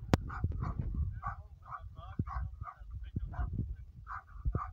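Several village dogs bark repeatedly in short, overlapping bursts at an arriving person, close by, with a few yips mixed in.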